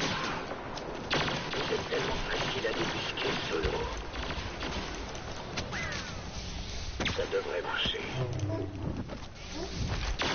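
Rapid blaster fire and impacts from a Star Wars video game crackle in dense, continuous bursts, heavily layered with game effects and excited voices talking over the action.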